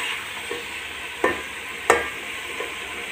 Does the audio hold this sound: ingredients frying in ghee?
yes